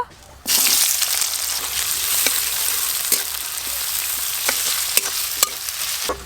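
Chopped onions hit hot oil in a pan and burst into a loud, continuous sizzle that keeps going, with occasional sharp clicks of a utensil against the pan.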